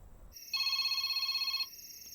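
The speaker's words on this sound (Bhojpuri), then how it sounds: "फोन तोरे बाप के फोन है, उठाई ना।" A telephone rings with a steady electronic trill for about a second, preceded and followed by faint tones, clear and alone with no voices.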